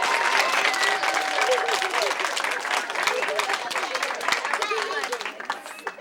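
Applause from an audience of parents and grandparents at a family event, dense steady clapping with cheering children's voices and chatter mixed in throughout.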